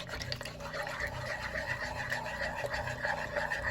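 Sourdough starter being stirred into a bowl of water at home, giving a steady sloshing, scraping mix of liquid and utensil sounds that runs continuously and fairly close throughout.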